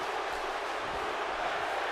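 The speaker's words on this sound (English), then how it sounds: "As the crowd chants Suplex City" Arena crowd in the WWE 2K wrestling game chanting "Suplex City" during a Brock Lesnar versus Roode match, a steady, dense roar of massed voices that holds evenly for the whole stretch.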